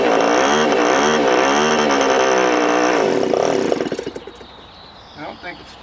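Nitro engine on a Top Flight P-51D Mustang model airplane, started for the first time in eight years with old fuel in it, running loud with a wavering buzzing rev, then cutting out and sputtering to a stop.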